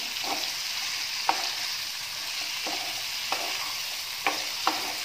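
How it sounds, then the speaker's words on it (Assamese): Food frying in a pan over a low gas flame, a soft steady sizzle with several sharp scrapes of a spatula stirring at irregular intervals, close up and without talk. "এনেকৈ অকণমান টাইম ভাজিব লাগিব।"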